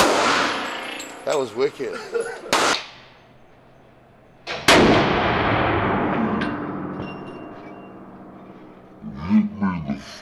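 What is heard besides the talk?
gunshots fired at a gun range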